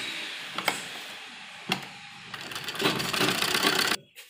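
Sewing machine stitching a seam along a folded hem of an embroidered net lehenga blouse, a few sharp clicks, then a short close whirring run for about a second and a half before cutting off.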